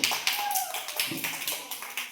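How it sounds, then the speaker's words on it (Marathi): Second-grade schoolchildren in a classroom clapping together, a quick burst of rapid, slightly uneven claps repeating in short pulses, close and fairly loud. "टाळ्या वाजवा रे सगळे"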